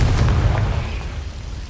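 A Confringo fire spell explodes in Hogwarts Legacy, a loud booming blast with rumbling low-end that fades slowly over its short length.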